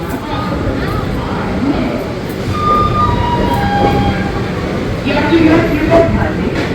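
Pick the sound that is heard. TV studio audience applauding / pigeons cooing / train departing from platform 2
train departing from platform 2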